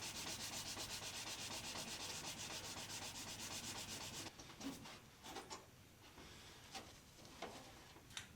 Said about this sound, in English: let's get the rest of this sanded